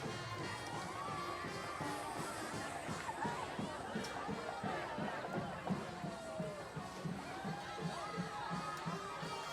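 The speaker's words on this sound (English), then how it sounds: "Well, that is the home crowd fired up." The home crowd at a high school football game between Eden Prairie and Totino-Grace cheers and shouts continuously, a dense roar of many voices with scattered children's yells, fairly distant and steady throughout.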